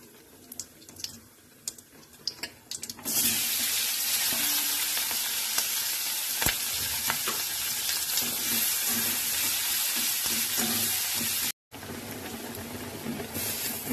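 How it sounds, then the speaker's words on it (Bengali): Chopped onions hitting hot oil in a pan for an egg curry, a sudden loud sizzle after a few quiet clicks and clatter, then sustained crackling frying with occasional stirring scrapes. "পেঁয়াজটা একটু ভাজা ভাজা করে নিলাম,"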